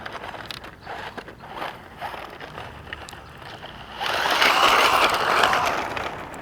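An MJX Hyper Go 14211 RC car runs on dirt at full throttle, a raspy motor whir and scraping that swells to a louder, steadier roar over the final seconds.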